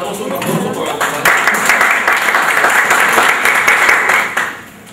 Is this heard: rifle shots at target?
no